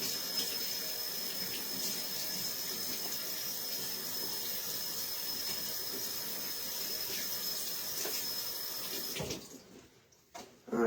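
Produce pieces are rinsed clean under a running kitchen tap before juicing, a steady close rush of water that holds constant and then cuts off near the end.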